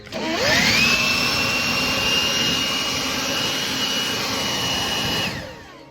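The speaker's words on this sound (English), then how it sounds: "I'm going to use a blower and blow the heck out of that." A rechargeable leaf blower spools up and roars steadily for about five seconds while clearing debris out of rotted exterior house wood, then winds down; loud, close and alone, with no talking.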